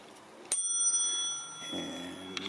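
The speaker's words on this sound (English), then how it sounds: "And means I've got the bell down here." A single crisp ding from a bicycle bell mounted on the handlebars of a ten-year-old Rivendell Sam Hillborne rings out close by and rings on for about a second, then fades under a faint outdoor hum and a soft knock.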